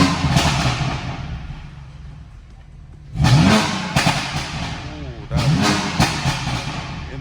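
BMW F80 M3 with aftermarket downpipes and a tune, engine revved in sport mode to about 3,500 RPM, two loud sharp rev bursts rising from a rumbling idle, close by, with people talking over it.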